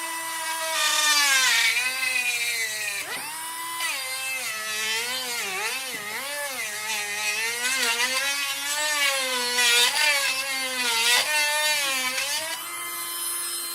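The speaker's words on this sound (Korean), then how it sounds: "이 구멍은 제가 쓰는 전문가용 드릴을 가지고 뚫어 보겠습니다" Professional power drill boring a hole through wood for a chopstick rubber-band gun, a steady loud whine with shifting pitch running continuously for the whole stretch, with a brief dip near the start.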